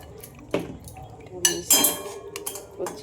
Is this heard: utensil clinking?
yes